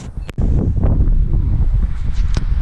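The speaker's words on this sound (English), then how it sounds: "It's a bit on the windy side," Gusty wind buffets the microphone outdoors in gardens, a loud, rumbling low roar that continues steadily after a brief sharp knock near the start.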